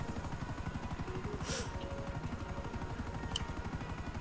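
Helicopter flying in GTA Online: a steady, rapid rotor thump chops continuously at moderate volume, with a couple of brief higher blips over it and no talk.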